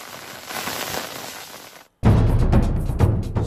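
Monsoon rain pours down, a dense, loud hiss of falling water that cuts out briefly and returns even heavier and closer, with no voices.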